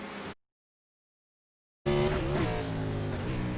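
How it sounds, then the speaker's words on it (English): An iRacing race car at Watkins Glen drones at high revs in a Rivalz Blacktop race. The engine tone dips briefly as the car shifts up a gear, then climbs again. It follows a short, abrupt gap of silence. "Let's watch the RPMs as he shifts up to 3rd gear."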